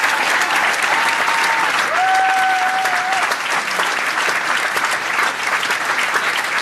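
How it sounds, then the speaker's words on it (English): Sustained applause fills a New York City town hall held by Rep. Sean Patrick Maloney, steady dense clapping from a large audience with a faint whistle cutting through. "Give them a round of applause."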